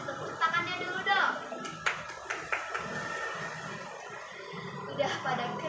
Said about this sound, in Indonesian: Kasih tepuk tangannya dulu dong.